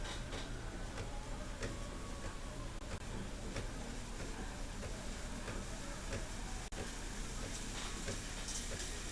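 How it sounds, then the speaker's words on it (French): The pump of a Breville BES800XL espresso machine starts up, giving a steady buzzing hum with a faint rhythmic ticking that runs evenly throughout at a low level. "Et voilà, la pompe vient de partir."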